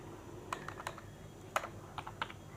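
Soft, scattered clicks of someone typing on a computer keyboard during a class on MS Office, a handful of separate keystrokes at an uneven pace, quiet and close, with no voices.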